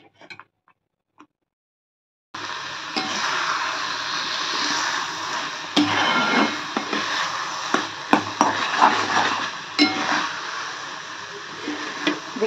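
A spoon scrapes and taps against a metal non-nonstick kadai while pointed gourd mash is stirred, giving an irregular run of clinks and scraping strokes that starts after a brief quiet opening.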